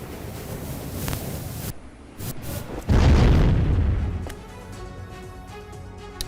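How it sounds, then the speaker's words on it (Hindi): A single deep boom from an air strike beside a bridge erupts midway, a loud broadband blast that rumbles and slowly fades, with wind buffeting the microphone before and after. "पुल के ठीक बगल में यह धमाका होता है"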